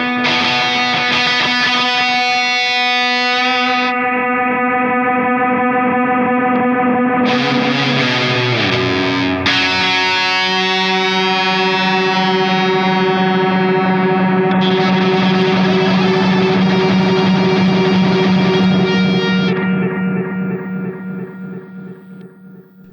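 Electric guitar played through a delay pedal using its swell function, notes fading in and blooming into long echoing, reverberant sustained tones with distortion, loud and continuous for about twenty seconds before tapering off.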